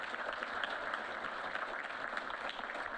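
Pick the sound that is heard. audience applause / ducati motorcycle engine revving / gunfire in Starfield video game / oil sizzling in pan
audience applause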